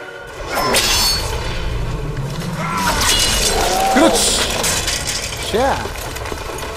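An object shatters in The Witcher 3: Wild Hunt with crashing, breaking debris and swishing impacts scattered throughout, loud and close, while someone talks over the game sounds.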